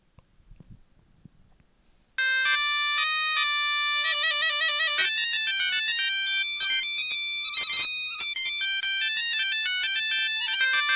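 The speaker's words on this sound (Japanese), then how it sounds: "珍しいエスニックな音源ギター弦なんだね" A rare ethnic-style guitar string sample plays in DTM music software: after a short quiet start, bright plucked notes run in a quick, lively melodic phrase with chord-like clusters, clean and close with no voices.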